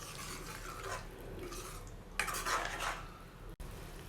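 A spoon scrapes and clinks against a pot as egg biryani masala is stirred, the quiet metallic strokes coming in irregular bursts at close range, with no one speaking.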